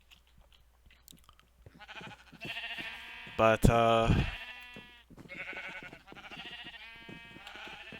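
Sheep bleating in a Minecraft sheep pit, several short wavering bleats from about two seconds on, with a brief louder burst midway, over light background noise and a few spoken words.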